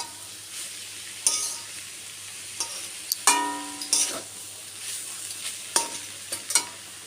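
Banana flower (mocha) stirred in a hot pan with a steady sizzle, broken by several sharp clinks and scrapes of a spoon against the metal, close up with no talking.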